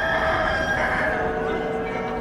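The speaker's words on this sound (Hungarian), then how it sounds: "vagy egy kakast kezd el kukorékolni" A rooster crows as part of a mechanical clock's automaton display, the sound steady and fairly loud over a busy, mechanical-sounding background with no talk.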